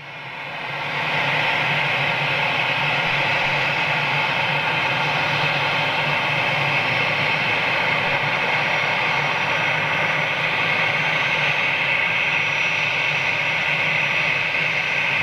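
A Qatar Airways passenger jet, flight QR22, takes off from Manchester Airport. A loud, sustained engine roar swells up within the first second and then holds steady and broad throughout, with no voices.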